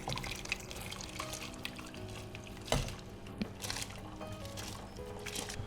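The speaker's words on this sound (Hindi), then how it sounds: "अब गैस को धीमी करके हम चावल डालेंगे।" Raw rice poured into a pot of water at a full boil, with the gas turned low, for a white biryani base: soft watery splashes and drips, with a couple of sharper plops, steady and close throughout.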